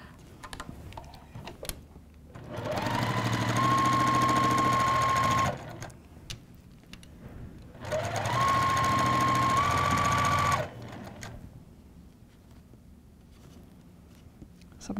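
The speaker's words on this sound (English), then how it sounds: "because you are sewing through some bias" Two close, steady bursts of sewing machine stitching run through the bias edges of a Spinning Star quilt block, separated by a short pause. Quiet handling noise and a faint voice fill the gaps.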